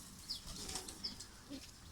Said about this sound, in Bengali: আমার একটা কবুতর আছে